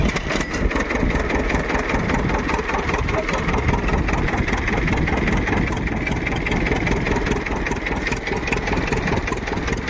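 A tractor engine idles nearby on a farm while a cumin field is irrigated, with a constant, loud, throbbing rumble that holds steady the whole time.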